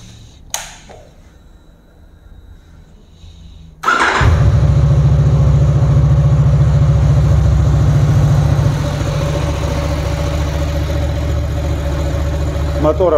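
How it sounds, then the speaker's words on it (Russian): A cold 2014 Honda VFR800 motorcycle engine cranks and catches after a few quiet seconds, then settles into a loud, steady idle that runs on without pause. "теперь мы перейдем к, соответственно, самому пуску двигателя и послушаем его работу."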